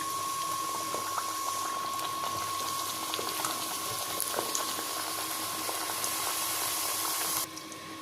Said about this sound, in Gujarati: તો હવે તેલમાં મૂકીશું બધી પૂરી